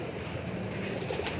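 Teddy pigeons cooing, soft low rolling coos repeating close by with faint background noise.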